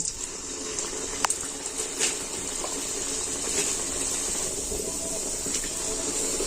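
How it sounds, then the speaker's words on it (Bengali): Batter hits hot refined white oil in a wok and fries with a steady, bright hiss that holds evenly throughout, with a few faint clicks and no talking. "এবার তেলটা গরম হয়ে গেছে এবার আমি এটা দিয়ে দিচ্ছি"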